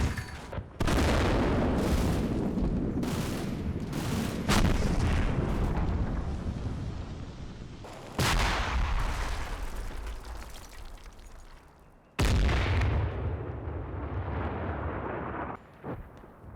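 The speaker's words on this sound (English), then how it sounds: "Another job for the mortars, who fire off their last remaining HE rounds." Mortars firing HE rounds in the Combat Mission Red Thunder war game, a run of heavy booming blasts with long rumbling tails, several overlapping early on and then spaced out, loud with no talk.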